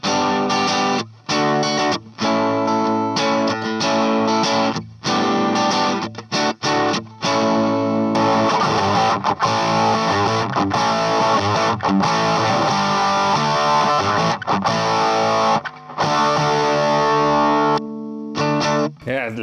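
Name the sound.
electric guitar through Dallas Rangemaster treble booster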